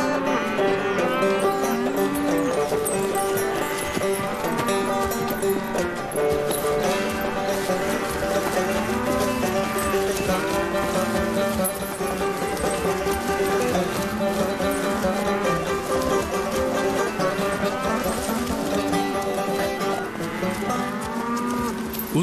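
A herd of 35 cows let out of the barn after a long stay inside, mooing again and again in overlapping calls, some near and some farther off, over a constant shuffle of hooves.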